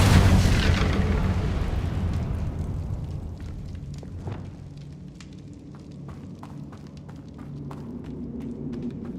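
An Incendio fire spell in Hogwarts Legacy bursts out in a loud whooshing blast. It decays over a few seconds into low rumble and scattered crackles and clicks, with no talking over it.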